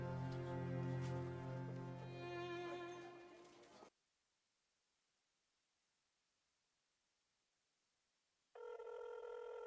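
A telephone ringing during a call in a Pakistani drama scene, a loud tonal ring that stops abruptly, then a pause of near silence before the ringing resumes.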